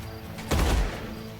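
A single shotgun blast in Age of Wonders: Planetfall, one short, thumping report with a low, brief tail over quiet background ambience.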